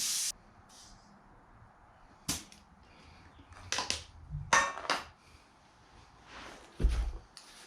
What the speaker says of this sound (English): hit it again with some air. So we'll go ahead and air these up to the recommended PSI.